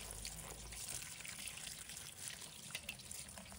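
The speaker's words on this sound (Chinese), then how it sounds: "我们放入盆中，用流动水一片一片的清洗" Mustard green leaves are washed under a running kitchen tap, a faint steady stream of water splashing and trickling over the leaves, soft and close with no speech.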